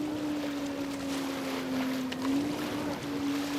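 Offshore-style 1800 Super Sport racing boats run over rough, bumpy water at Paynesville, a steady engine drone with a wavering pitch heard from a distance, washed by water and wind noise.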